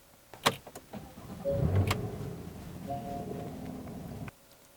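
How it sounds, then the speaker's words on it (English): A 2015 Porsche 911 Carrera S starts up nearby: a sharp crank and catch, then a loud flare that settles into a steady, rumbling idle for a few seconds before cutting off abruptly. "turn this this little knob here to start the car up"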